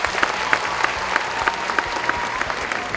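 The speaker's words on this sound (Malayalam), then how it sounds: "അപ്പോൾ അതിന് ശക്തമായൊരു കൈയടി അവർക്ക് കൊടുത്തു" An audience claps firmly for a group of child dancers at a stage show in Adelaide, a dense continuous applause with sharper individual claps popping out near the front and a faint murmur of crowd beneath.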